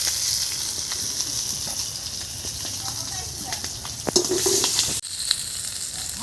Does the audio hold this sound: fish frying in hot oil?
yes